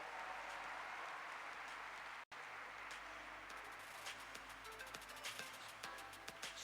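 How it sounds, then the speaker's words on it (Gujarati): Sustained, dense applause from a crowd at a hospital inauguration, steady and fairly loud, with a brief cut partway through before the clapping continues. "આપણે સૌ શુભકામનાઓથી અને તાળીઓના ગડગડાટથી આ ઉદ્ઘાટનને વધાવીશું."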